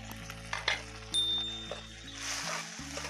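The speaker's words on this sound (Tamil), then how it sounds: "வெங்காயம் நல்லா வதங்கிருச்சு, தக்காளி சேர்த்துக்கலாம்." Onions and tomatoes sautéing in a pan for a Tamil fish curry, a steady close sizzle with occasional clinks and stirring scrapes, no talking.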